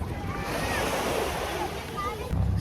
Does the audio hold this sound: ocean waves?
yes